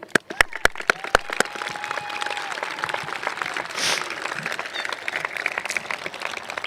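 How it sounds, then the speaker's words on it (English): Graduation crowd applause at a Mountain Home High School 2024 ceremony, a few sharp nearby claps at the start giving way to a sustained spread-out clapping across a large audience, with a whistle or cheer rising briefly and some background talk. "I'd like the crowd to join these seniors in giving you guys give yourselves a round of applause as well"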